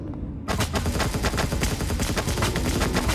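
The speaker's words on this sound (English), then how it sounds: "I am going to go and shoot this golem" In the game Empyrion, a player opens fire on a golem after a brief silence, letting off a rapid, sustained burst of gunshots that continues loud and unbroken to the end.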